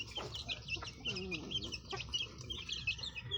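Several pet chicks peep and cheep in quick, bright bursts while being fed termites, close and fairly faint, with soft clucking murmurs mixed in.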